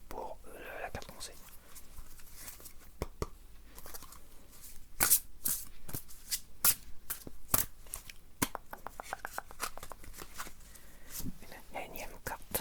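Tarot cards being shuffled close up in a quiet room, with soft riffling and sharp slapping snaps that come in irregular bursts, under faint whispering.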